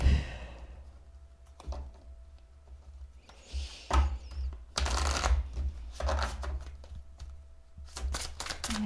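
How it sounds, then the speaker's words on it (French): Oracle cards being shuffled by hand before an Archangel Michael card is drawn, a soft close riffling and flicking with brief rustles and light taps, quiet and intermittent, with no talking. "je vais vous tirer une carte de l'archange Michael"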